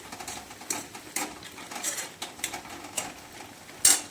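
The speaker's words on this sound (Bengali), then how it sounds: "এবার আমি ক্যাপসিকামটা দিয়ে দিচ্ছি। ক্যাপসিকামটা এর সঙ্গে কষিয়ে দিচ্ছি।" Capsicum being stir-fried in a pan for a vegetarian paneer gravy, heard as repeated close metal clinks and scrapes of a spatula against the pan, with a sharper clack near the end.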